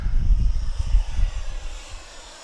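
A radio-controlled F-15 Eagle jet with twin 64mm electric ducted fans passes overhead, a loud whooshing roar that fades steadily as the model flies away.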